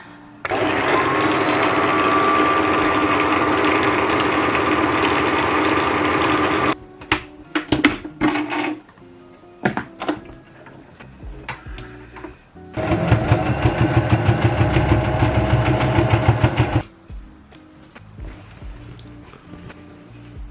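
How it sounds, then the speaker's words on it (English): A domestic sewing machine runs at steady high speed winding a bobbin for a quilted makeup bag, a loud continuous whir for several seconds, then scattered clicks and handling noises before a second sustained burst of motor whine. "I have run out of the bottom thread, so I have to take a detour and rewind this bobbin"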